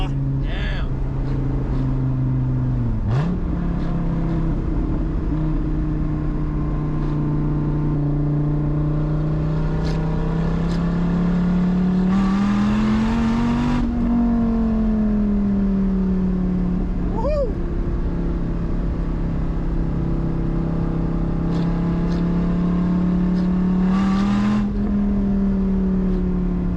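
A 2009 Dodge Viper ACR engine revs at half throttle, a loud, steady, close-up drone that swells and falls in pitch over several rises, with a few brief spoken words buried under it.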